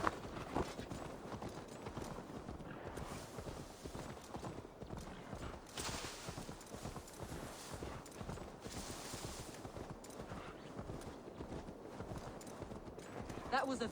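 Hooves of a horse ridden in Assassin's Creed Valhalla clop in a steady, continuous rhythm, fairly close, with game music and voices running over them throughout.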